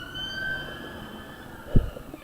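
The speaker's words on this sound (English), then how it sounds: "Ignore the police siren outside in" A police siren wails outside in a residential neighbourhood. Its long wavering tone is fairly faint and distant, and a brief low knock sounds near the end.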